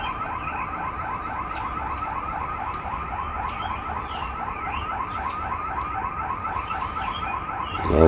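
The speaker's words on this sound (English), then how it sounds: "Alarm of some sort." Car alarm wailing outside at 4:20 in the morning, a steady cycling electronic tone repeating through the whole stretch, moderately loud and unbroken by voices.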